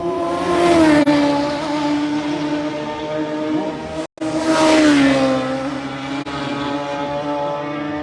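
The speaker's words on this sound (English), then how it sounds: "Brian McCormack and David Datzer, who are all out there on the Superstocks and on the climb of the mountain." Superstock racing motorcycles scream past on the mountain climb of the Isle of Man TT road course, loud high-revving engines sweeping by close with a Doppler drop, one bike after another, with no talking.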